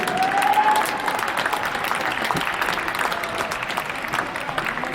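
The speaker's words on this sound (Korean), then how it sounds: "오늘도 멋진 경기를 펼쳐준 우리 천안의 전사들에게 힘찬 경기 박수 부탁드리겠습니다." Football fans in a stadium applaud the Cheonan City FC players after a 3-0 K League 3 home defeat to Changwon City, broad sustained clapping from a large crowd with a brief whistle at the start.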